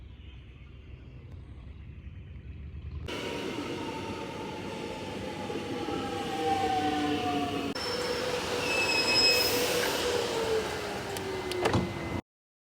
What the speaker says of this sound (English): My train's at 5:02, and yeah, it's how I'm getting there.